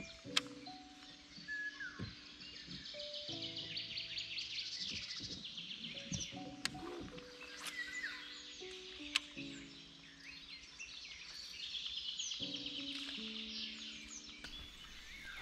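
Many birds singing and chirping at once in the wild Danube Delta near Murighiol, Romania, a lively overlapping chorus of calls and trills, fairly faint and distant in an open setting.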